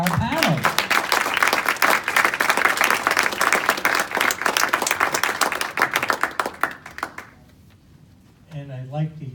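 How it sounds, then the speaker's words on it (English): A conference audience gives a panel on the future of transportation a sustained round of applause, with dense clapping for about seven seconds that then fades, followed by a brief voice. "I'd like to hear a big round of applause for our panel"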